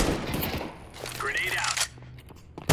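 Gunfire from a Counter-Strike 2 Wingman match crackles in quick bursts at the start and again near the end, with a brief rising tone in the middle and faint voice chatter.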